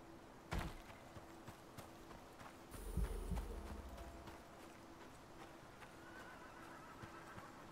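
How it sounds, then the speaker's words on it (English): A horse in the survival game Icarus gives a loud whinny, followed by scattered hoof clops over a low ambient game backdrop. "Oh, it's a fucking horse."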